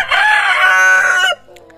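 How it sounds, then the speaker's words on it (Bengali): A Tiger breed laying hen in a poultry house gives one loud, close, drawn-out call, like a crow or cackle, lasting more than a second before it cuts off and leaves quiet. "আজকে বুঝতেছি না হঠাৎ করে মুরগি কি জন্য এরকম শব্দ করতেছে।"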